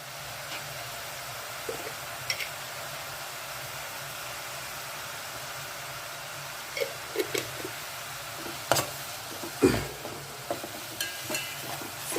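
Sliced onions with salt and a little turmeric frying in a pan for a chicken fry, a steady soft sizzle with occasional louder clicks and stirring knocks, no talking.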